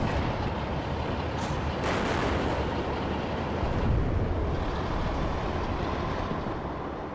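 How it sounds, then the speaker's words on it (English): A dense, rumbling blast roars through a WARNO real-time strategy battle, a heavy wash of low noise that stays loud and sustained across the whole moment before easing slightly at the end. "An explosion."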